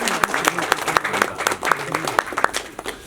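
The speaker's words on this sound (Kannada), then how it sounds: "ಅವರಿಗೆ ಜೋರಾದ ಚಪ್ಪಾಳೆಗಳ ಮೂಲಕ ಸ್ವಾಗತ." An audience at a Kannada movie trailer event applauds to welcome a guest, a steady patter of claps from a modest crowd lasting a few seconds, with no talk over it.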